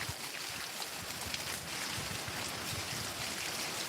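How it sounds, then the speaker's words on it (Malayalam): Steady splashing and trickling water runs continuously as a rose apple plant is watered, close by, with no pauses and no voices. "ചാമ്പയ്ക്ക് കുറച്ച് വെള്ളം കൊടുക്കുവാണ്"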